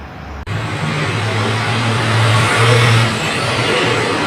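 Steady road traffic noise swells as a vehicle, likely a truck, drives past nearby after a sudden start, with a broad low engine rumble that peaks mid-clip and then eases slightly.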